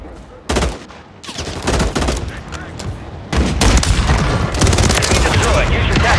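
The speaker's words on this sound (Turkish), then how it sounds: "Hava saldırısı vurdu bana." Airstrike explosions and heavy gunfire in COD Warzone, a dense, loud barrage that starts abruptly and keeps rumbling, growing heavier partway through, with no talk over it.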